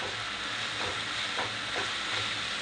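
Ground spices, including turmeric, garam masala and Malvani masala, are stirred into an oily frying pan for a dhaba-style mushroom masala, with a constant close sizzle and a few soft scraping strokes, and no voices.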